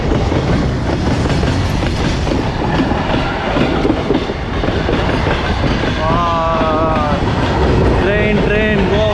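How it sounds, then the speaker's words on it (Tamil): Goods train rolling past on the railway at a waterfall trekking route, a loud continuous rumble with clickety-clack of wagons and brief metallic wheel squeals near the end. "இது வந்து பார்த்தீங்கன்னா கூட்ஸ் ட்ரெயின்"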